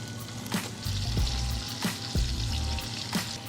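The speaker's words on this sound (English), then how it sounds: "So now, I'll go ahead and just put this bacon in here." Beef bacon fries in butter in a pan, a loud close sizzle running throughout with periodic spits and crackles punctuating the steady hiss.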